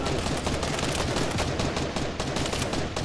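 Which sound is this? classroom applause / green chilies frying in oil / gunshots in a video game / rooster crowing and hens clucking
gunshots in a video game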